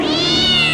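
A cartoon cat lets out one loud, drawn-out meow that is close and clear and stands alone without any speech.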